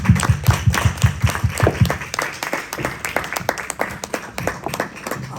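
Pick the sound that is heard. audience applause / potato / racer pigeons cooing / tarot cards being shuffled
audience applause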